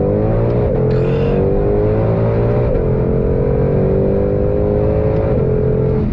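A 2022 Ford Shelby GT500 Heritage Edition accelerates hard through the gears on a track, its loud engine note climbing and dropping at each quick paddle upshift, sustained and close.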